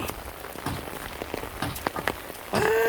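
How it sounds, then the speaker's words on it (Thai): Midday rain falls steadily over Thai rice paddies, a dense patter of drops on water and ground throughout, with a louder, closer hiss of heavier rain or runoff swelling in near the end. "บรรยากาศทุ่งนาตอนฝนตกพี่น้อง"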